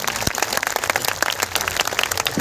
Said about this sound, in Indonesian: Tepuk tangan untuk Subhanul Muslimin.